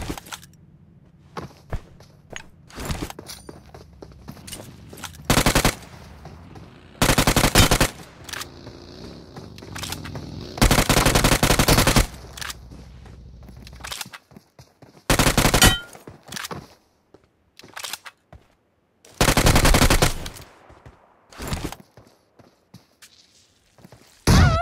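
Bursts of automatic gunfire ring out in a PUBG Mobile squad fight, loud clustered volleys separated by quieter stretches of footsteps and thumps, the shooting arriving in irregular clumps across the skirmish.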